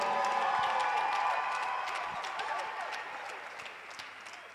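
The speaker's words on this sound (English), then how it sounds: "Let's give our judges a round of applause." Applause and cheering from the audience at a School of Entrepreneurship launch event, honoring the judges. The clapping is loud and dense at first, then gradually thins and fades over a few seconds, with some shouts mixed in.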